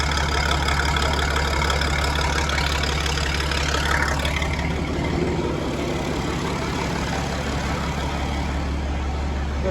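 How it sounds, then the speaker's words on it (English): Massey Ferguson 1250 tractor idling at first start-up, a steady low diesel rumble, close and constant throughout with a slight shift in tone partway, no voices. "Can't beat the sound of a working engine."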